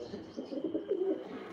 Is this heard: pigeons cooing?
yes